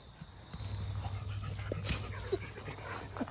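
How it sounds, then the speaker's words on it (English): A dog on a homestead pants rhythmically close by, with a few small whimpers and yips mixed in over a low steady hum. "she's just a really great dog, a really great snuggle bug"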